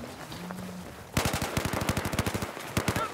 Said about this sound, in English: I'll just flank wide and try to get them with my M16 DMR.